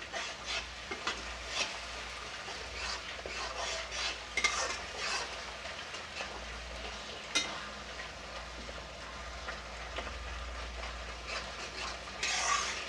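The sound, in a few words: stirring and frying garlic and onion in a pan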